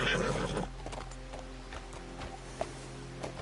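Hooves clip-clop from a horse ridden in Red Dead Redemption 2 near Valentine, opening with a louder burst and a whinny, then quieter hoofbeats with a sharp knock near the end.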